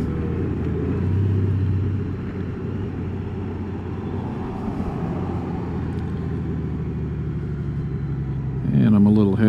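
A motorcycle engine hums and rumbles steadily as the bike rolls up to a DFW Honda dealership, with a louder rise near the end and a voice talking over it.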